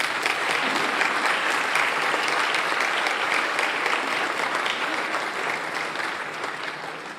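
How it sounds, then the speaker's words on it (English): Sustained, even applause fills the hall at a peace symposium, a dense wash of many hands clapping that holds steady for several seconds and tapers only slightly at the end. "if you wish to show your appreciation by clapping,"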